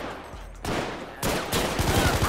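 Scattered gunshots and bursts of enemy fire in GTA 5, with several sharp cracks growing denser and louder in the second half, close and unaccompanied by talk.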